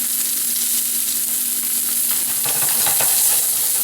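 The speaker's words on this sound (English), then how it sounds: "I'm going to add my garlic to the pan," Garlic sizzles in a hot pan over medium heat while New York strip steak is being cooked, giving a loud, continuous close-up hiss with a few sharper crackles and stirring scrapes near the end.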